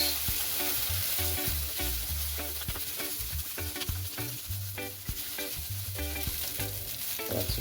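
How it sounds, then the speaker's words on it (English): Egg fried rice with kielbasa sizzles steadily in a hot pan while being stirred, with repeated scraping knocks of the utensil against the pan over constant frying hiss, close and loud. "Let's stir it around a bit. Make sure every little bit of it, that egg is consumed by rice."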